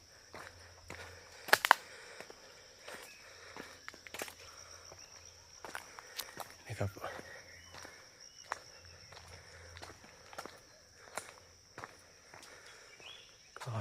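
Footsteps crunch along a hillside path toward a mountain summit, a steady stride of scuffing steps at close range with insects buzzing faintly in the background and no talking.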